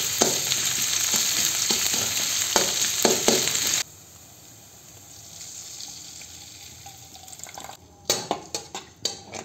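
Onion and ginger-garlic paste hit a hot pan with a loud, bright sizzle that drops to a quieter simmer, followed by several sharp clinks and scrapes of stirring near the end.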